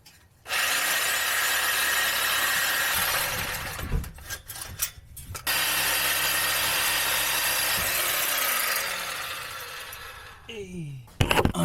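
A reciprocating saw cuts through the exhaust pipe of a Lexus GS430, buzzing steadily in two long, loud runs separated by a brief pause, ending with a few clanks.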